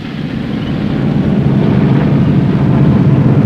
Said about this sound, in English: P-38 circle overhead, providing an aerial umbrella for our convoy.